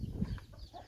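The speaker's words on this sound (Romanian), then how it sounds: "puișorii de găină pitică," Bantam chicks and a small bantam cochin rooster in a backyard coop, heard as a few soft, brief clucks and peeps close by over low rumbling background noise, with no talk.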